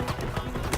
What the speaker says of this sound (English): I just killed the horse